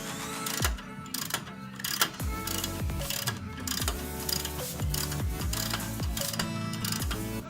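A ratchet wrench working loose the sway bar links on a CJ-7 Jeep during a lift install, with close, rapid clicking bursts repeating across the whole stretch, alone without talk.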